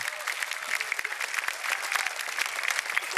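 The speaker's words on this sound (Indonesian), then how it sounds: "Terima kasih ya, tepuk tangannya." An audience claps steadily and enthusiastically, a dense wash of applause that carries on throughout without pause.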